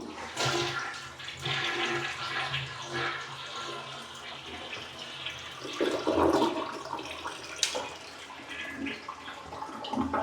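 A hotel toilet at a Best Western inn in Apalachicola, Florida flushes with a rushing, gurgling wash of water, fairly close, swelling midway and tapering into refill trickling.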